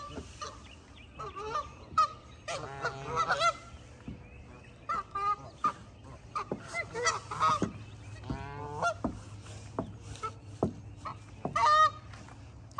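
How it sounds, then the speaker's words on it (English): Geese honking in scattered, overlapping calls on a quiet morning, some loud and near, others softer, with gaps of stillness between. "Good morning, geese."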